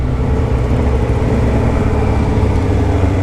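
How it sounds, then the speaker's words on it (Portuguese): A Yamaha XJ6 motorcycle idles nearby, its exhaust giving a steady, loud, low-pitched rumble that holds an even throb for the whole moment with no revving. "Eu gosto tanto desse escapamento."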